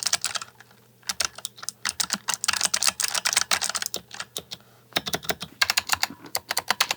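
Rapid typing on a Razer Huntsman Elite keyboard with clicky optical switches, a dense run of crisp, close keystrokes with a brief pause around the middle, no voices.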